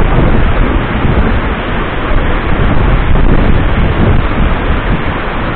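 Kangthilangso waterfall in Assam, with spray blowing toward the camera: loud, dense, continuous roar of falling water close by, with rumbling wind buffeting and no voices.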